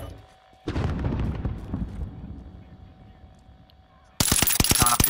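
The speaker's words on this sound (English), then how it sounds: "Oh fuck, I'm getting shot from the other side now." Loud bursts of automatic gunfire erupt in Call of Duty Warzone Resurgence, with one sustained volley and then a sharp, rapid burst of close shots near the end.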